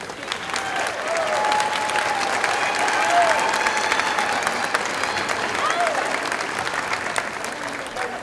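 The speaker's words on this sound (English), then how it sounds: "Please give these students a round of applause." Audience at a sixth-grade promotion ceremony at an elementary school applauding students, a full, steady round of clapping from a large crowd, with faint voices and cheers mixed in throughout.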